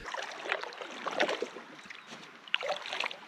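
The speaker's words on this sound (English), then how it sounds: "I've been paddling for ages" Kayak paddling on Arthur's Lake, with soft rhythmic paddle strokes and water splashes close by, a couple of brief splashy bursts standing out against quiet lapping water.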